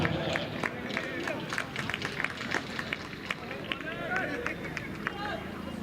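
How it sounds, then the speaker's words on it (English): A cricket crowd claps for a bowler, scattered sharp hand claps repeating irregularly over a busy background of crowd murmur and voices. "Just claps for this bowler."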